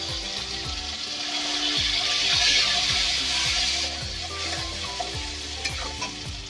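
Chopped onion hitting hot oil with whole cardamom, cinnamon and cloves for a Bengali katla fish kalia, a loud rush of sizzling that swells midway, with spoon scrapes and stirring knocks repeating underneath.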